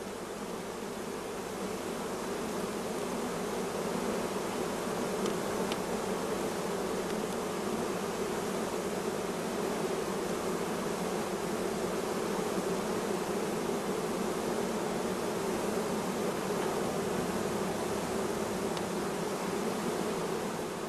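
A dense swarm of honey bees hums steadily around brood frames being moved between hives, a loud, continuous, close-up buzz with no pauses or voices for the whole stretch.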